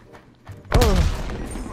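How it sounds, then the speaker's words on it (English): A grenade exploding in the video game Call of Duty Black Ops Cold War, a sudden loud boom with a deep rumbling tail after a brief quiet moment. "Grenade."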